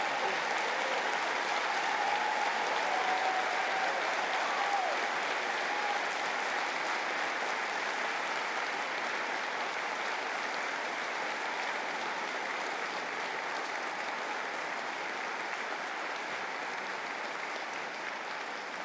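Sustained audience applause fills a graduation conferring ceremony for the Faculty of Engineering and Technology, a steady broad wash of many hands clapping at even loudness throughout, with no speech over it.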